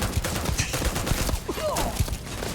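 Video-game gun firing heavy 7.7 ammunition lets off a string of sharp, punchy shots at an uneven pace, moderately loud against a busy battle backdrop with faint whistling effects.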